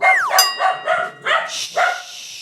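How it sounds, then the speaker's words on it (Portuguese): A dog barks close by, five or six sharp barks in an uneven run with a whine at the start, loud and with no one talking. "Chegou, cachorro."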